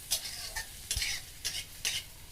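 Onions sauté in a pan on a home stove, soft repeated scraping stirs in an uneven rhythm over a faint, quiet sizzle, with no talking.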